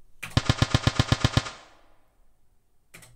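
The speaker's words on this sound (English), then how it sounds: "And there you go, a semi-automatic rifle." Synthesized semi-automatic assault rifle burst built in the Serum synth: nine sharp, evenly spaced shots fired in quick succession, followed by a decaying tail and one more hit at the end, loud and close with no talking.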